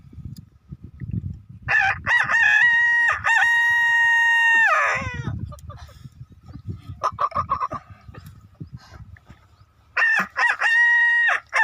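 A man imitates a rooster crowing, giving several loud, drawn-out cock-a-doodle-doo calls with breaks between them, including one long crow and a final call, mixed with soft rustling.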